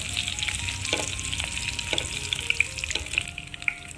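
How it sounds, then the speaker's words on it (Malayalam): Curry leaves crackling in hot oil, a steady bright sizzle with sharp little pops over a low hiss, close and fairly soft, with no voices. "2 കറിവേപ്പില ചേർത്ത് കൊടുക്കാം. കറിവേപ്പില ഒന്ന് മൂത്തോട്ടെ കേട്ടോ"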